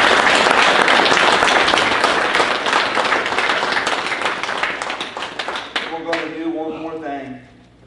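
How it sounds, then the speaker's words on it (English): A congregation at a funeral service gives a long round of dense clapping that gradually thins and fades, with a voice speaking over it near the end. "can we just give a clap offering to the Lord today?"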